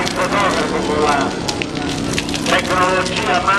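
A large bonfire at the Brusa a Vecia festival in Piazzola sul Brenta roars and crackles continuously, loud and close, with a crowd murmuring underneath.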